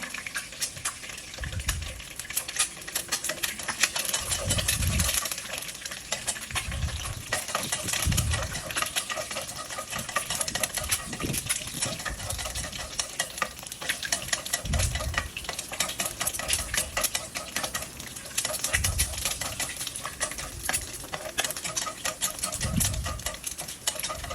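Fried egg sizzles in a pan alongside a Thai basil stir-fry with meatballs, a dense, constant crackling spatter with recurring low knocks and scrapes throughout.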